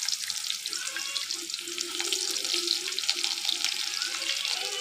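Chopped onion hits hot oil already crackling with tempering spices and sizzles and spits continuously. The frying is close and even, with no voices over it.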